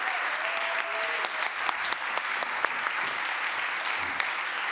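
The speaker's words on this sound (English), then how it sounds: "Give them a big applause." Audience applause at a book presentation event, a dense, even wash of clapping from a crowd, continuous and moderately loud with occasional sharper individual claps.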